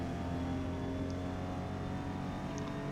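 A Toyota Supra GR races in Forza Motorsport at Hakone, its engine a steady droning hum held at constant pitch for the whole stretch, with no talk over it.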